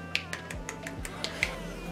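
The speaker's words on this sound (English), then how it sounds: "I can clap with one hand." A person claps with one hand, giving a series of sharp, snappy flicks spaced irregularly, fairly quiet and close with no other sound around them.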